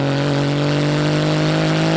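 A 2018 Porsche 911 GT2 RS idles loudly with its sport exhaust open, a steady, close, deep drone with a strong low hum and no revving, heard alone.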